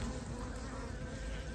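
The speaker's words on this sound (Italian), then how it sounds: "qui c'è il glomere delle api che prende da sotto" Honeybees cluster inside a winter beehive, a steady, close, continuous hum of many wings with no voices.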